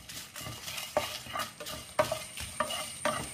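Coriander seeds and dried red chillies roasting in a pan over a low flame, a steady soft sizzle broken by several sharp stirring scrapes of a spoon against the pan at irregular intervals.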